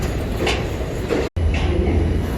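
A New York City subway train in a station, a steady rumbling roar of cars rolling past with faint rail clatter, continuous and fairly loud, broken by one very brief gap.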